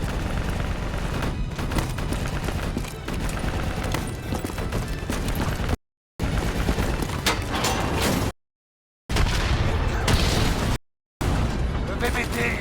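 Gunfire aimed at VTOL aircraft in the video game Call of Duty: Black Ops 3, dense loud bursts of shooting mixed with booms and mechanical noise, nearly continuous with brief dropouts, voices heard under the battle.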